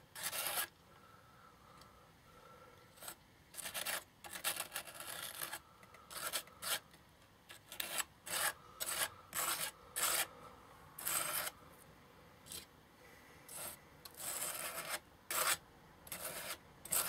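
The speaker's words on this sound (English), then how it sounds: "it's a case of put on, scrape and scrape off" Paper napkin decoupage being scraped by hand, with short, quiet rasping strokes in irregular bursts separated by brief pauses, close and soft with no talking.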